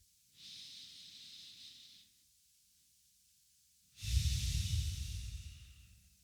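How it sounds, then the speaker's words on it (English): Two slow, deep conscious breaths close to the mic: a long airy inhale, a pause of silence, then a heavier, louder breath with a rough rushing exhale. "A thing which helped me was to just breathe consciously."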